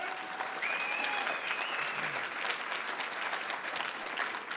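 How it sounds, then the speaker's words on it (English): Steady, dense banquet applause for Brian Estridge, a radio host, at a Fort Worth athletic club dinner, sustained at an even level throughout with faint whistles over the clapping. "So big hand of applause for Brian Estridge."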